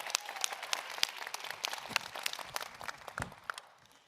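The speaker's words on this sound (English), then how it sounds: "we can give her a round of applause for that" A conference audience breaks into sustained applause, a dense patter of many hands clapping at moderate distance that gradually thins out toward the end.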